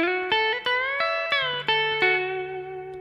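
A guitar plays a short lick, clean plucked notes and slides picked one after another at a moderate pace, ringing clearly and alone without any voice.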